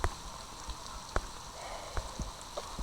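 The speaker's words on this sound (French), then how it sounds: "Mais bon, il pleut." Light rain falling steadily outdoors, a soft continuous patter with a few scattered louder drips and knocks on a nearby surface, no voices over it.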